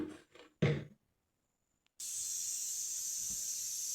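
A pressure cooker cooking tomatoes with salt and water releases steam in a steady, bright, close hiss that starts abruptly after a few brief knocks and continues unbroken.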